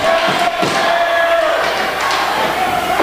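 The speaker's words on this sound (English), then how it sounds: "Crowd is going nutso here at BCW" A crowd at a BCW wrestling event roars and shouts in a loud, continuous din, with thuds from the ring breaking through the noise.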